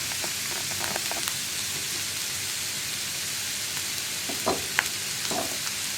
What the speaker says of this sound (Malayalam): ഇതൊന്ന് നന്നായിട്ട് ബ്രൗൺ കളറായി വരുന്നത് വരെ ഇളക്കി കൊടുക്കുക